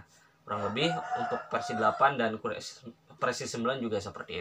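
A rooster crows in the background behind a man's steady Indonesian tutorial narration about Laravel, its call partly masked by the continuous talk.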